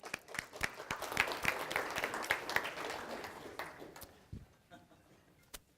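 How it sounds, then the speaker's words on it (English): Applause from staff at a quarterly all-hands company meeting, a steady wash of clapping that swells then fades over a few seconds, moderately distant and soft. "So let's give Terry a round of applause."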